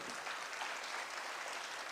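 Steady applause from an audience at a culture festival at the Arts Council in Karachi, a dense wash of clapping hands holding at an even level for a couple of seconds.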